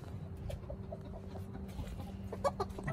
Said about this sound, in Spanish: y aquí ya le tapamos estas gallinas